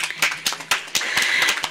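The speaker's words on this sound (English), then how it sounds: "I think we need another clap for that." Scattered audience clapping at a women's summit conference session, a handful of sharp, distinct claps at irregular intervals, fairly close and loud, with no steady wash behind them.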